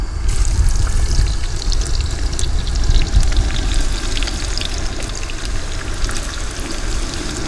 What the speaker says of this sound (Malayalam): അപ്പോൾ നമുക്ക് ഉള്ളി ഒന്ന് വറുത്തെടുക്കാം.